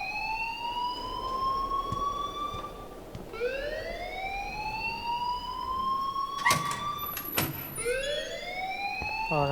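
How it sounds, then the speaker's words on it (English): School alarm ringing in the video game Life Is Strange, a loud rising and falling electronic siren wail that repeats in sweeping cycles, with a few sharp bursts of other noise partway through. "please turn off that alarm since that's your job"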